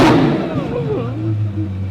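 Lamborghini Revuelto engine opening with a sharp loud burst, then a rising and falling rev that settles into a droning idle, with a person's voice over it.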